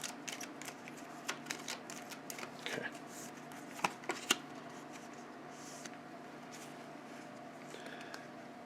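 Tarot cards are shuffled in a quiet room with a low steady hum, a soft continuous riffling and sliding punctuated by a few sharper snaps and taps, close by and faint.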